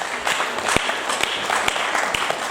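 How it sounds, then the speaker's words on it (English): An audience applauds in a brief burst of moderately loud, even clapping, with a few sharper individual claps standing out from the crowd. "thank you for applauding that sequence"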